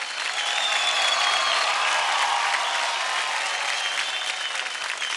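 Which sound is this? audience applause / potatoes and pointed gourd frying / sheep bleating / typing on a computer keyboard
audience applause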